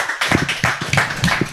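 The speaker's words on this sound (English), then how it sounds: "A round of applause for yourselves." A handful of people clap at a Bali property market talk, giving a short burst of close, uneven hand claps that sound sparse rather than a full crowd.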